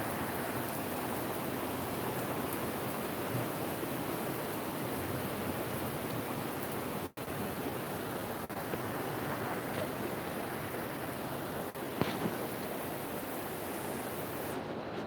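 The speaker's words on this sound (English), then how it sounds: "still it's raining" Rainstorm pouring over a vegetable garden with cabbage and lettuce, a dense, steady wash of broadband noise like heavy rainfall, constant and fairly loud throughout with one brief dropout midway.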